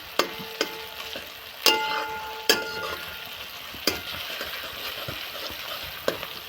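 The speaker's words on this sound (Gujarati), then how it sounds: "મરચાં પણ થોડાક શેકાઈ રહ્યા છે" Green chilies and tomatoes sizzle steadily as they roast in a pan for bataka pauva, a continuous frying hiss broken by a few sharp stirring clinks and scrapes, close and alone with no talk.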